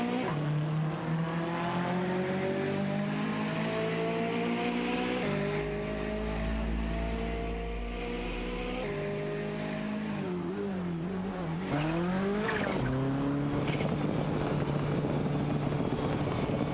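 Video-game race cars, a Mercedes-Benz 190 Evo 2 and a BMW M3, whose engines rise and fall through the gears alone, with a sharp rev sweep and a brief tire scrub near the end.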